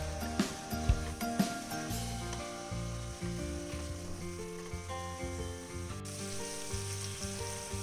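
Pork with bamboo shoot and chili powder fries in a pan with a close, steady sizzle. A few sharp clicks and stirring knocks come early on, and a low hum runs underneath.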